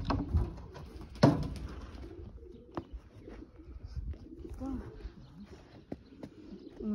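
A Janssen De Klak racing pigeon coos softly in a loft, faint low calls scattered among rustling, light knocks and a sharp bump, with a voice talking quietly at times.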